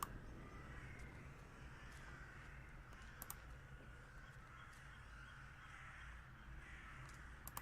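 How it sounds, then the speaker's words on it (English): Crows cawing in the horror point-and-click game The Last Door, faint repeated caws over a low ambient drone, mixed with light computer keyboard typing and clicking. "So we want to go to where we hear bird noises"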